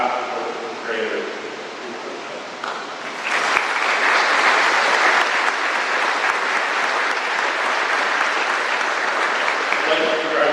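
A graduation crowd at a conservation law enforcement academy ceremony applauds loudly and continuously after a speaker's voice trails off, the clapping swelling and holding steady before thinning at the end.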